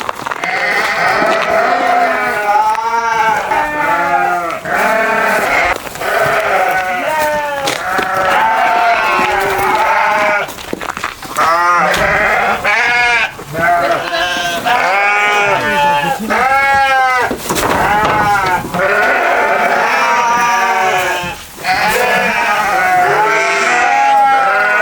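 Sheep and lambs bleat constantly on a large, clean farm in a Chechen village, many overlapping calls near and far forming a dense, loud chorus with only brief lulls.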